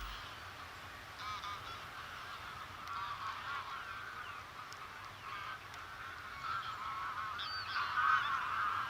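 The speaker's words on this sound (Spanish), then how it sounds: "Miles de gansos invaden los campos de cultivo para alimentarse de los cereales que han brotado tras el verano." Thousands of geese feeding in farm cropland honk together in a continuous dense chorus, distant and steady, swelling slightly toward the end, with no voice.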